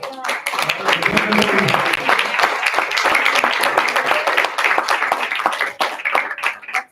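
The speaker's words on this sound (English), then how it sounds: "Let's give them a big round of applause" An audience at a school district board meeting claps for recognized board members, a moderately loud burst of hand clapping from a modest group that tapers off, with some voices mixed in.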